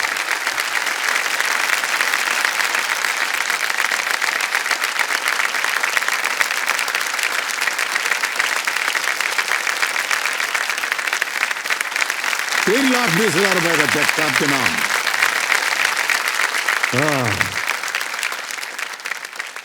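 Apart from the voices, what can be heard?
studio audience applause on quiz show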